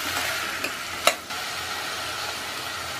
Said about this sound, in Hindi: चला लेंगे सब्जी को।